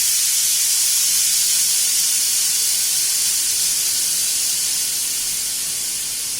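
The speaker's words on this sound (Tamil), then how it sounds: "இப்போ இம்மீடியட்டாக நான் ப்ரெஷரை ரிலீஸ் பண்ணுறேன்." A loud, steady hiss of steam rushing out of a pressure cooker during immediate pressure release, continuous and close, fading slightly toward the end.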